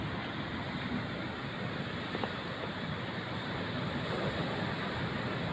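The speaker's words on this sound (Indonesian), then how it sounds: "Perhatikan ombaknya." Ocean surf roars in a steady, broadband wash close to the shore, with wind buffeting the microphone and no distinct breaks standing out.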